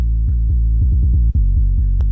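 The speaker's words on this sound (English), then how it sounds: "The sub can contain 1 or 2 octaves of sine waves blended together while maintaining a very clean and flat sound" Synthesized dubstep sub bass built from blended sine waves, a clean, flat, deep tone pulsing in a steady rhythm of short repeated notes, loud and alone with a brief dropout near the middle.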